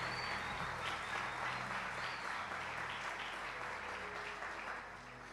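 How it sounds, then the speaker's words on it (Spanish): Congregation at a church service applauding the pastor's wife, a dense, steady wash of clapping from a large crowd that holds evenly and then softens slightly at the end. "Quiero que le den un fuerte aplauso."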